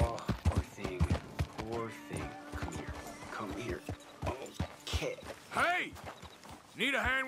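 Hooves clip-clop in an uneven walking rhythm in the video game Red Dead Redemption II, with a horse whinnying and snorting, and voices talking over the steps.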